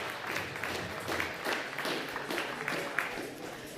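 Applause from an audience at a climbing competition podium ceremony for the Open B male finalists, a steady mid-loud round of clapping lasting throughout with some crowd noise.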